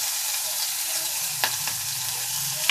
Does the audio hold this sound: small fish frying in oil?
yes